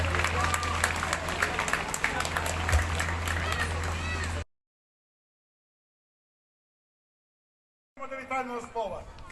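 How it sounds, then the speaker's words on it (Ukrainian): Audience applause at an award ceremony at an agricultural college in Ukraine: about four seconds of dense, loud clapping, then a sudden silence before a short burst of other sound. "Аплодуємо."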